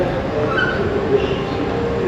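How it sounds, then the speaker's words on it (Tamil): A steady low rumble of a metro train running through a station in the UAE, constant and fairly loud, with faint screeching tones drifting over it. "மெட்ரோ ஸ்டேஷன் பார்க்குறக்கே ஒரு ஏர்போர்ட் ஃபீல் கொடுக்குது"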